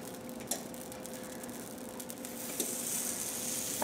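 Sourdough English muffins sizzle steadily in hot oil in a pan, a dense, even crackle that swells slightly toward the end, with a faint tap near the start.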